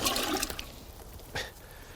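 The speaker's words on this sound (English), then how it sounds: "Now I'm going to give it a light water." Water splashing and trickling from a watering can onto a potted gardenia cutting, carrying diluted liquid fertiliser, soft and close at first, then fading, with a brief second gush near the end.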